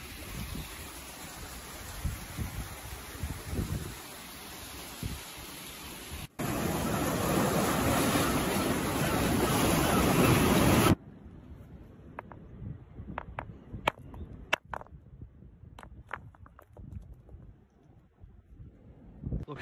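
Waves washing onto a beach, a broad steady roar of surf that swells louder partway through, then drops to a quieter stretch with scattered clicks and knocks.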